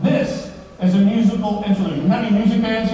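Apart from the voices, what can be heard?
No everyday noise stands out behind the speech.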